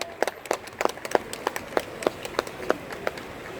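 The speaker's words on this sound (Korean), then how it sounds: "박수!" At a Korean party's campaign rally in Yecheon, sharp claps sound about a dozen times in a loose, evenly spaced rhythm, sparse rather than a dense crowd roar.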